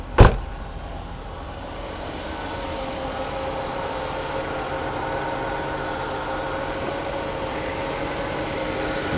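Mercedes-Benz W126 300SEL engine idling at about 1000 rpm while cold, a steady close mechanical drone and hum after a short sharp knock at the start.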